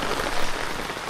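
Morning rain falls in a brief, even wash of hissing drops on nearby surfaces, steady and unbroken.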